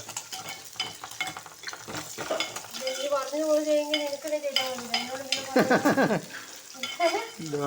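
Fish fries in a pan with a continuous sizzle. A utensil stirs and scrapes with squeaky strokes, and a few metallic clinks from the cookware sound close by.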